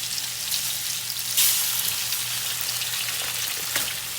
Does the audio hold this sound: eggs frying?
yes